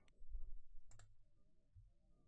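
A computer mouse clicks a few times, quick and close, while tools are selected in an Excel spreadsheet, with the room otherwise quiet.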